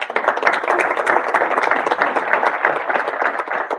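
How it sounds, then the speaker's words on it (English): A meetup audience gives Facundo a round of applause, a steady, fairly loud wash of many hands clapping for nearly four seconds with no talking over it. "So give him a big clap."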